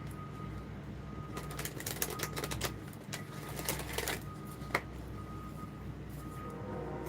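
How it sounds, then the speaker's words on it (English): A deck of oracle cards being shuffled by hand, a run of crisp riffling snaps and taps of moderate loudness, close up and alone over a faint steady background hum. "I'm going to shuffle one more time."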